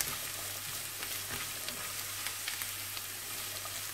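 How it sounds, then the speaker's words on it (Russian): Carrots sizzle steadily as they are stir-fried in a pan, a continuous crackling hiss at moderate level with no talking. "Все это перемешиваем и обжариваем, пока у нас морковь не поменяет свой цвет."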